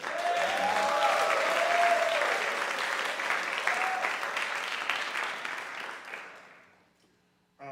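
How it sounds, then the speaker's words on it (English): A symposium audience at a summer jazz workshop gives a full, sustained round of applause, loud and steady at first with a few voices in it, then gradually thinning and fading away to near silence. "Give this man another round of applause."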